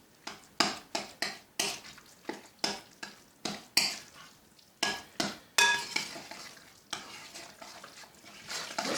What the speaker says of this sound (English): We're stirring that up.